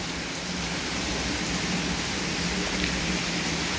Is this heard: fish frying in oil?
no